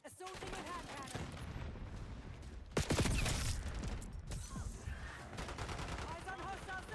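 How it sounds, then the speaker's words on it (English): Rapid gunfire from a hand cannon in the video game Call of Duty Black Ops 6, loud, dense bursts with a heavier blast midway, under game announcer voices and battle noise. "Assaulting with hand cannon."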